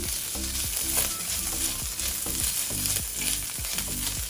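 Chicken pieces frying in a pan for restaurant-style hot and sour soup, a steady dense sizzle throughout with rhythmic scraping of a spatula stirring, close up and with no talking.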